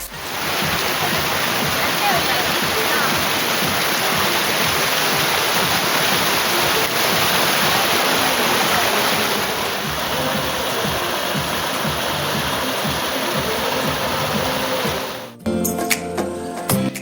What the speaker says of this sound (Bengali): এই পার্কে একটা কৃত্রিম ঝর্ণা আছে, খুব চমৎকার।